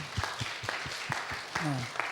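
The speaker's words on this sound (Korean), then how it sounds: "우리 친구들 박수 한번 하겠습니다" Children in a church gathering clap together, brisk uneven hand claps close by with a voice speaking over them.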